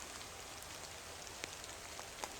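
Light drizzle falls outdoors as a soft, steady hiss with a few faint scattered drops tapping nearby, quiet and continuous with no talking.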